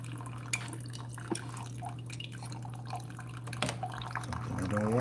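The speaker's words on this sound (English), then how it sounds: "So we're doing just a normal 8-ounce brew on the Keurig K Supreme Plus." A Keurig K-Supreme Plus coffee maker brews an 8-ounce cup through a reusable My K-Cup, with a steady machine hum, scattered drips and a trickle that swells into a pour near the end.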